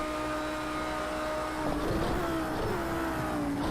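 Race car engine in Project CARS 2 holds a steady high drone through a lap, with a shift and rising rev around the midpoint, loud and continuous with no voices.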